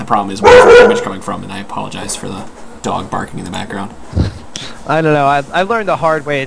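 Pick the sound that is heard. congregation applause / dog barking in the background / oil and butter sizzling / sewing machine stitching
dog barking in the background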